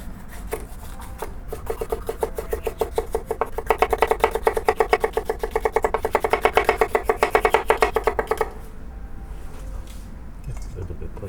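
A knife chops red pepper on a cutting board in a rapid, even rhythm of sharp taps that grows louder in the middle, then stops abruptly.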